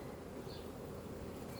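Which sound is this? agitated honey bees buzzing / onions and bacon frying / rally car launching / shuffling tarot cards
agitated honey bees buzzing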